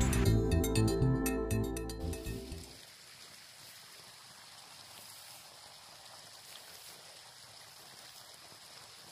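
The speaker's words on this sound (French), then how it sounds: "Pied dans un ruisseau. Ça continue, il y a une chute d'eau là-bas. Il pleut légèrement" A woodland stream runs steadily in the middle distance, with a waterfall further off and light rain falling, a soft continuous trickle and wash after a short burst of louder tonal sound at the start.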